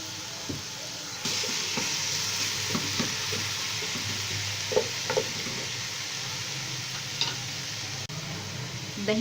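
Chicken pieces going into a moderately heated pot on a stove, giving a steady sizzle and frying hiss with occasional stirring clinks and knocks, close and moderately loud.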